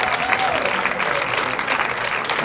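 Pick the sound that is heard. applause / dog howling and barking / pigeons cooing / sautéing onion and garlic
applause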